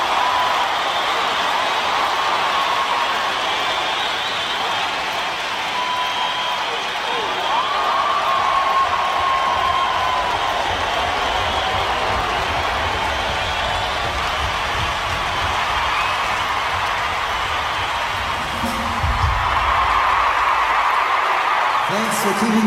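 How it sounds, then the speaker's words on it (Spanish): A concert crowd cheers and applauds the singer, a broad, sustained roar of voices and clapping that carries on unbroken for over twenty seconds at a steady level. "La gente se pasó como 5 o 10 minutos vitoreándole."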